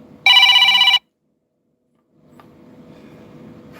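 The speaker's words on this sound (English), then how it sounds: "Let me let the phone ring." A telephone rings with one loud, bright electronic trill lasting under a second, followed by silence and then faint low background noise.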